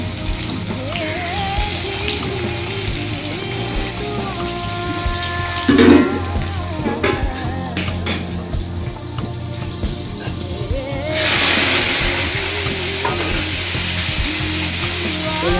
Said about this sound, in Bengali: আগে আমি যেহেতু আলুগুলো করিনি তো হালকা পটল ভাজাটা করে নেব।